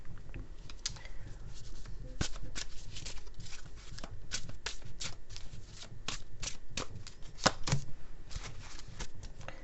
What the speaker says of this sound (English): So I'm going to pull an extra card out of my Chinese deck here.